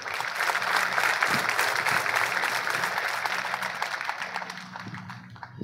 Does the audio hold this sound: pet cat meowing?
no